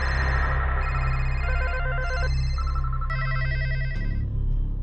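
A telephone rings in a steady electronic tone pattern, the ringing continuous and fairly loud with a hum underneath, part of an investigation into phone-call bank fraud from Jamtara, Jharkhand.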